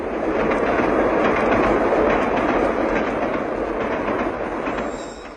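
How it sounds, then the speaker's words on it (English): An express train roars past in a 1959 stereo demonstration recording, a loud, dense rushing rumble that swells and holds, then fades slightly at the end, with no voices. "With stereo, an express train roars through your living room."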